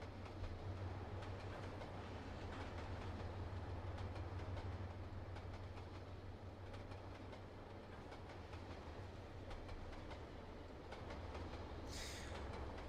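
Train running on the Hawes Junction route in Trainz Simulator 2, a continuous low rumble with faint rhythmic rail clicks over about thirteen seconds, steady and moderately quiet, ending with a brief high squeal near the end, with no voices.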